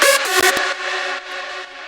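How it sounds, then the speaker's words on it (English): A rave lead synth from a track's drop opens with a couple of quick punchy hits, then holds a buzzy, bright sustained chord-like tone, loud and alone. "Then we have a rave lead."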